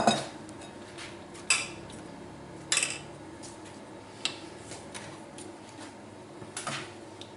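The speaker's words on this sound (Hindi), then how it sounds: "उस जग को जो हम स्क्रैपर से ज़रा अच्छी तरह साफ़ कर लेते हैं।" A scraper clears strawberry mixture from a jug into a bowl, giving a few sharp clinks and light scrapes against the container that start firm and grow fainter, with no talking.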